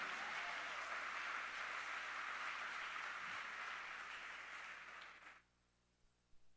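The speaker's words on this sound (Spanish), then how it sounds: "Denle su mejor aplauso al Señor." Steady applause from a church congregation during a Spanish-language sermon, a continuous wash of clapping that gradually thins and then cuts off near the end, leaving brief quiet with a few faint knocks.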